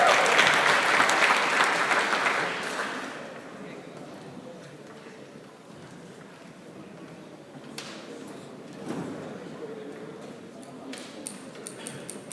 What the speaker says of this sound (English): Give a round of applause for Yorkshire!